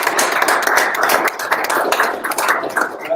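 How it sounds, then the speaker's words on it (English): An audience at a community talk on bikeable, walkable Flagstaff gives a round of applause: dense, continuous clapping with many overlapping hand claps, fairly loud and close, and no speech. "Can we give Sam a round of applause?"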